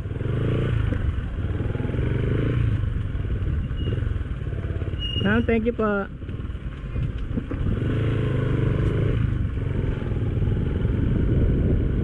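Steady engine drone of motorcycles and scooters riding near Sangab Cave, continuous and fairly loud throughout, with a brief voice and a scraping clatter near the middle.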